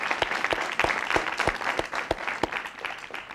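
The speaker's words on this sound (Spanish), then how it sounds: "Un aplauso para mi hermano," A TV talk show studio audience applauds the host's brother as a guest, dense clapping punctuated by regular sharp, heavy beats about every third of a second, loud and close throughout.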